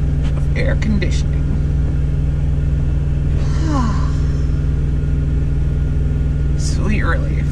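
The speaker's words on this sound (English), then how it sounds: "That is the sound of air conditioning." Car air conditioning blowing a steady, loud rush of air over a low cabin rumble that stays constant throughout, with a few faint breaths and small sounds on top.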